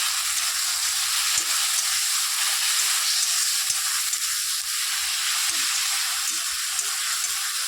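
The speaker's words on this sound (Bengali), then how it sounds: "এবার টমেটোটার উপরে রেডি করে রাখা মশলাটা দিয়ে দেবো" Spice paste stirred into tomatoes frying in a pan, a steady close sizzle with faint scraping and stirring knocks, no voices.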